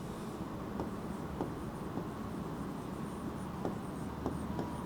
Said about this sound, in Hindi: यहां पर हम लिख लेते हैं ताकि हमारे ध्यान में रहे।